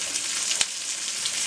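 Garlic sizzling in a pot for chicken and corn chowder, a bright steady hiss with one sharp spoon knock as it is stirred, close by.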